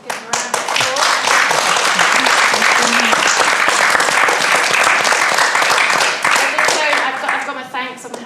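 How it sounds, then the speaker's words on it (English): Loud, dense audience applause at a symposium, sustained for about eight seconds with a few voices mixed in near the start and end. "I'd like to invite you to give them a round of applause."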